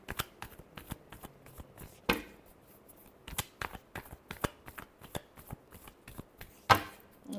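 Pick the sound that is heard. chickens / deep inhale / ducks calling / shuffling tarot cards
shuffling tarot cards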